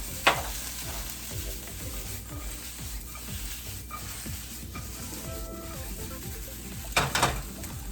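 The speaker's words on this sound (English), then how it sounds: "Everything's been sauteing for, I don't know, 5 or 6 minutes total." Green beans and mushrooms with garlic sautéing in butter and olive oil in a hot pan, giving a steady crackling sizzle with occasional scraping stirs and a couple of louder clatters, close up and without voices.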